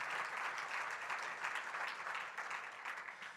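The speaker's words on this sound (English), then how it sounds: "Let's give them a round of applause for setting up this lunch today." Luncheon audience at a Detroit Economic Club event gives the staff a round of applause, steady scattered clapping held at moderate distance throughout.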